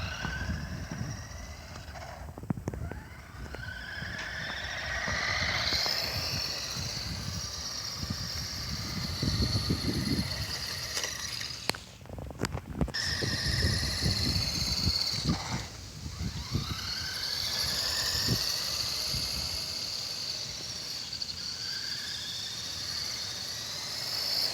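A Shadow Striker RC car drives, its small electric motor whining and buzzing at moderate distance with rising and falling pitch, plus scattered scuffs and knocks over an outdoor background.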